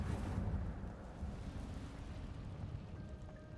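Incendio fire spell cast in the video game Hogwarts Legacy, a sudden loud whooshing burst of flame at the start that fades into a low, rumbling roar.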